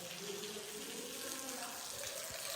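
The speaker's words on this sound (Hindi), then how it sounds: "लो भाई टायर में पानी भरने लग रहा है" Water runs steadily into a Sonalika RX 60 tractor tyre through a fitted valve, a constant broadband hiss and gurgle that stays even and close, with a brief louder bump at the very end.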